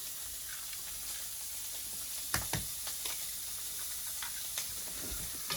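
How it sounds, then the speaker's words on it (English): Eggs cracked into olive oil sizzle in a pan with a steady hiss, broken by a few faint taps and pops, close by and without speech. "Put a little bit of olive oil. Okay, we're gonna crack a few eggs."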